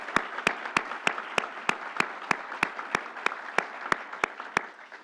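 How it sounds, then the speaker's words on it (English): Steady, evenly spaced sharp claps ring out over a broad wash of audience applause for the New York governor at a Rochester budget announcement, loud and continuous with no talking. "Let's give our governor a big round of applause."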